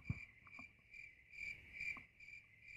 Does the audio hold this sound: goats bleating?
no